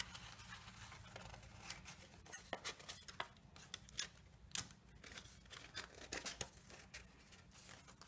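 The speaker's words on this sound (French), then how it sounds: "On enlève le scotch." Crackling, tearing rustles of tape pulled off a surface in short bursts, close and fairly quiet, with scattered sharper snaps.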